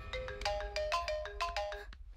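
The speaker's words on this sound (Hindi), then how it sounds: "सूर्या का फोन।" A phone ringtone plays a repeated melodic electronic tune several times in quick succession, loud and close, with no talking over it.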